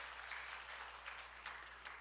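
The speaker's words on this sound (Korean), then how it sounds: "하나님께 우리 함께 영광의 박수 한번 돌릴까요?" A church congregation applauding together, a steady wash of clapping hands held at an even level, somewhat distant and soft, with no voices standing out.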